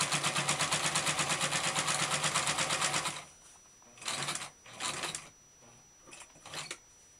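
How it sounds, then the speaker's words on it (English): Household sewing machine stitching quilt binding, running in a steady rapid mechanical chatter for about three seconds before stopping, followed by a few brief soft rustles of fabric being handled. "So I'm going to stitch all the way down until I'm a 1/4 inch from the end of my quilt"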